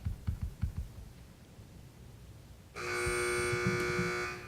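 A quiz competition buzzer at a high school academic match sounds one long, loud, steady electronic tone that cuts in after a few soft knocks and holds for nearly two seconds.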